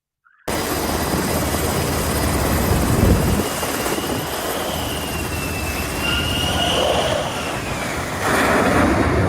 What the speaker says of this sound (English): I believe it's the F-35 doing a touch and go here